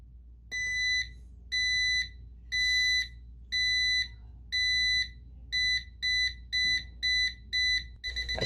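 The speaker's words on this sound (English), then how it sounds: "My latest work starts a 10-second countdown with an LED and buzzer" A series of sharp electronic buzzer beeps from a 10-second LED and buzzer countdown circuit for a rocketry project, first slow and evenly spaced, then quicker and shorter toward the end, over a faint hum.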